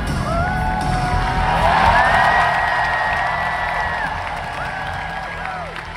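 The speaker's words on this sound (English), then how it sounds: "the entire arena erupts in applause and shouting" An arena crowd of over 5,000 at the 2025 Pokémon World Championships finals in Anaheim applauds and shouts continuously, with rising whoops and whistles cutting through the steady roar of clapping, swelling midway then easing slightly.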